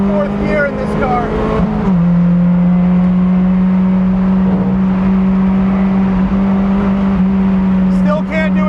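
A 2017 Mazda MX-5 Cup race car drives on a racetrack in third and fourth gear, its engine holding a loud, steady, close drone with a brief shift in pitch early on, heard from inside the car.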